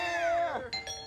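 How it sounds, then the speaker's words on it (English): A doorbell rings with a clear falling ding followed by two short bright tones, loud and close, with nothing else over it. "You hear that? The doorbell!"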